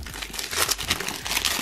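Packaging is pulled off a Lenovo Gaming Y520 laptop during unboxing, giving a continuous close crinkling and rustling of plastic or paper wrap with small irregular swells in loudness.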